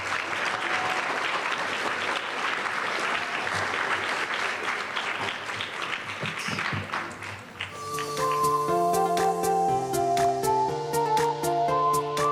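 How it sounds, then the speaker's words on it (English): Dense audience applause at a youth summit fills the first seven seconds, then fades as bright piano-like musical notes and chords take over, loud and steady. "Let's get another round of applause"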